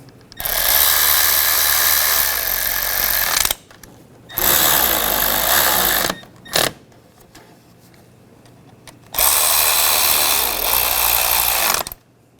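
A power tool drives bolts down on a 2004–2009 Toyota Prius engine during a spark plug job, whirring loudly and close in three bursts of several seconds each with quiet gaps between.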